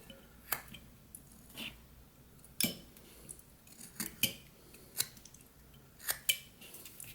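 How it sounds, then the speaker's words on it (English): Knife whittling wood with stop cuts, a series of faint, sharp clicks and short scraping snaps spaced irregularly, close and quiet with no talking. "Take out a piece there, or stop cut there, and then just take out that wood."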